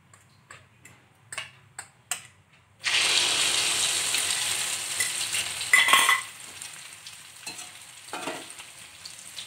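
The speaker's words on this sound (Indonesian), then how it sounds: "Minyaknya udah panas ya mam ya. Kita akan masukkan" Egg batter for fu yung hai drops into deep hot oil and erupts into a loud, steady sizzling hiss after a few light clicks, the bubbling continuing close and strong to the end.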